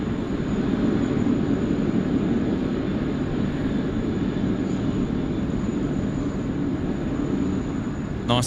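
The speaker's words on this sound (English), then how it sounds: "nice to see the American Airlines 777. Wow, that was a brilliant startup." An American Airlines Boeing 777 spools up its engines at Sydney Airport, producing a steady, dense roar that stays level and unbroken for several seconds.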